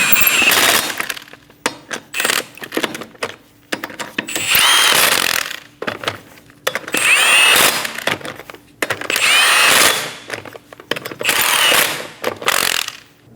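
A power tool runs down the wheel lug nuts on a 2008–2015 Scion xB during a front inner tie rod replacement. Loud, close mechanical whirring and rattling comes in about half a dozen repeated bursts separated by short pauses.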